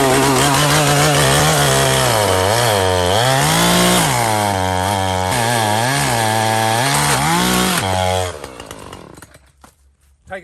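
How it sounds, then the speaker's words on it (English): A chainsaw runs outdoors, loud and close, its engine revving up and down in repeated surges for about eight seconds before cutting off abruptly, leaving faint rattles behind. "just use a chainsaw, nothing else around"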